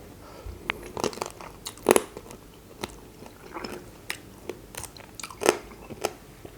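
Close crunchy bites and chewing of a Thai mixed seafood salad with shrimp, shellfish, crab and fish, as irregular sharp crunches and wet chomps come one after another up close.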